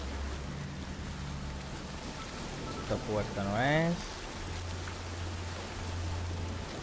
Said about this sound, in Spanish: Está lloviendo dentro de la habitación, lo más lógico del mundo.